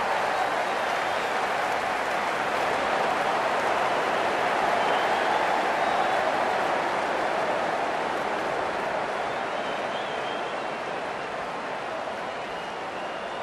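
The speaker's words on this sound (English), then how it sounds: "It's going to be hard for the bowler to focus with the crowd this excited" A large stadium crowd at a Sydney Thunder versus Brisbane Heat cricket match roars in a sustained, dense wash of cheering that holds loud and steady throughout, easing slightly toward the end.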